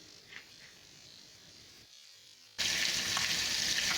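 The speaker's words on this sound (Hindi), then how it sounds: "अब मैं इसको लो फ्लेम पर फ्राई करूँगी।" Fish frying in a pan over a low flame, a steady soft sizzle that turns louder and brighter partway through, with no talk.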